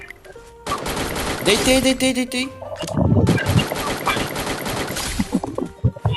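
Rapid bursts of gunfire from the mobile battle game Free Fire during a championship match, repeated volleys and single shots layered with game effects, close and loud, with players talking over the action.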